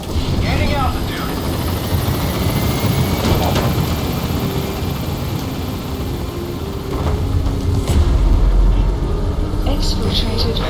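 Helicopter lifting off in Metal Gear Solid V: The Phantom Pain, a loud continuous rotor and engine roar filling the whole stretch, with radio voices talking over it.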